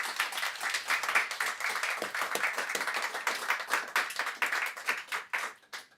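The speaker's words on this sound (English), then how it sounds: "Could you give them a round of applause" An audience at a community event gives a round of applause, steady clapping from a modest crowd lasting about six seconds and tapering off at the end, with no voices over it.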